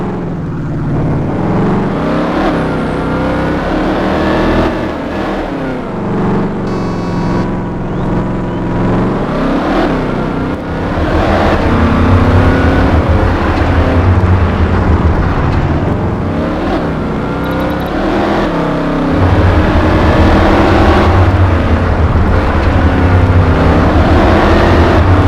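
A car in the Arma 3 Exile game on Tanoa's jungle map roars steadily as it accelerates, a loud continuous engine drone climbing through the gears with no voices over it.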